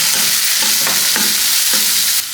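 Cut potato, onion and grated carrot for poha fry in hot oil, a steady loud sizzle close by, with a few spoon scrapes as the pan is stirred.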